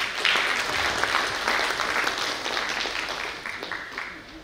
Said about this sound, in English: Let's give him again another round of applause.